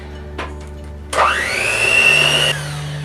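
An electric mixer mixes cinnamon into lembas bread batter in a home kitchen, a brief tap and then a loud whirring motor that spins up quickly and holds a steady whine for over a second before stopping.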